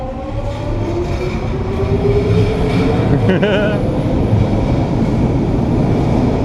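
A Vancouver SkyTrain Mark II train runs at Stadium Chinatown Station, its rolling rumble and rising whine loud and close throughout, with a faint chime partway through.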